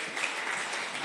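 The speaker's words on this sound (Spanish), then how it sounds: "Denle un aplauso a Dios." A church congregation applauds in a brief, even wash of clapping during a sermon.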